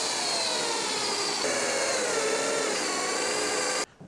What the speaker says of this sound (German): da bohren wir jetzt die Löcher rein.